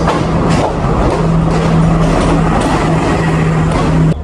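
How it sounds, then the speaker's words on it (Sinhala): A passenger train pulls into a station on the way to Nuwara Eliya, a loud steady rumble of wheels and engine with a sustained low hum and faint clacking, close and continuous. "ට්‍රේන් එක ආවා."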